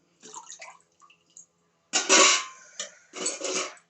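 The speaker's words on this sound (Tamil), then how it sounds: "அதை லைட்டாக தண்ணியில் அலசணும்" Ragi kali dough being rinsed lightly in water by hand in a traditional kitchen, heard as short soft splashes at first, then two louder bursts of sloshing and trickling water close by, with no talk.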